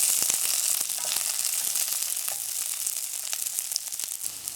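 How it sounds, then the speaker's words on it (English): Onions, pimentos and peppers fry in a tablespoon of coconut oil in a pot for Trini-style curry duck, producing a steady, bright hissing sizzle with faint crackles, close and continuous without speech. "I'm going to be adding in my onions,"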